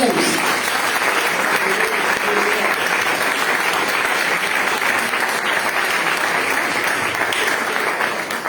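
A church congregation applauds during an evening worship service, steady and dense clapping filling the room for the whole stretch without pause.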